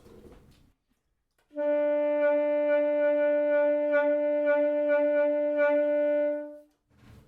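A single sustained saxophone note is held for about five seconds, its pitch wavering in an uneven, choppy vibrato. No other sounds accompany it.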